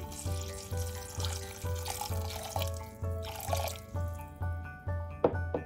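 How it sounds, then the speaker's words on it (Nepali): Water pours and splashes steadily into a pressure cooker, while soft background music with a regular thumping beat plays throughout. "मैले यसमा राखे थोरै पानी"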